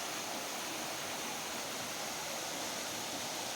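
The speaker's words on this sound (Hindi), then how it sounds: "तो चलंतु आपण माने भी एंजॉय करंतु गोटे बहुत ही सुंदर वाटरफॉल। सीताकुंड waterfall." Sitakund waterfall roaring as a dense, constant wash of falling water, broad and unbroken for the whole stretch, moderately loud with no voices over it.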